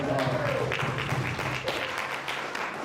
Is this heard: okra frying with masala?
no